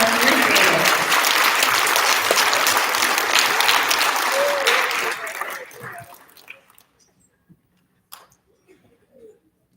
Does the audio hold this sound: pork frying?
no